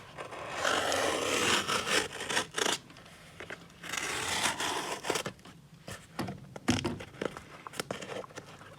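Scissors snip and rasp through stiff packaging in uneven bursts, crinkly scraping strokes separated by short pauses, close up and moderately loud.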